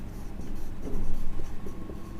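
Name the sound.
writing on a board during a chemistry lecture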